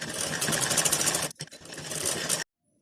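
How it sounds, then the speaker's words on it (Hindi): Sewing machine stitching a blouse lining, a rapid steady mechanical whir for over a second, a brief pause, then another short burst that stops abruptly, close and fairly loud. "यहाँ से जो ये सिलन है उसी पर ये रखकर सिलाई इसके ऊपर से करेंगे"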